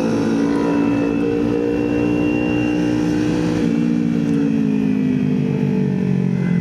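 Motorcycle engine in third gear during a night ride, engine braking with a steady buzzing drone whose pitch slowly falls, close and continuous without talk.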